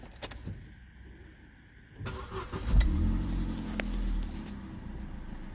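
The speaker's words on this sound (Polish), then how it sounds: "Zobaczymy, czy jeszcze raz odpali." An Opel with an Easytronic automated gearbox starts up after some faint clicks and key jangles, the engine catching with a low rumble that settles into a steady idle, heard close by in a quiet setting.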